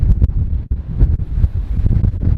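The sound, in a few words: strong wind buffeting the boat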